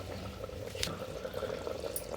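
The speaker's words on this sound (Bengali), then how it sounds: "আমি উচ্ছেটাও ধুয়ে নিচ্ছি" Salted bitter gourd is rinsed in water in a home kitchen, with soft sloshing and a brief drip or splash, faint and close.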